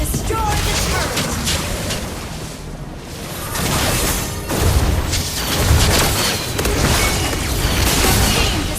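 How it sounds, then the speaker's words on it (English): Booming blasts and crashing debris ring out as a turret is destroyed in a Mobile Legends match, layered with whooshing effects and rumbling impacts that swell and recede, loud and busy throughout. "Your team destroyed a turret."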